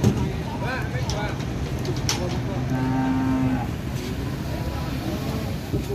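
Cattle mooing among big jumbo Limousin cows being offered for sale, with a long drawn-out low moo in the middle rising over the background noise, while people talk around it.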